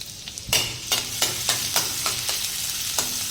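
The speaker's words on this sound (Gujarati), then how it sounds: "તેમાં લસણ અને આદુ પહેલાં ઉમેરી દઈશું અને સારી રીતે સાંકળી લઈશું" Garlic and ginger sauté in about three spoonfuls of hot oil for pasta, a continuous sizzle broken by repeated sharp stirring scrapes and spatters at a fairly regular pace.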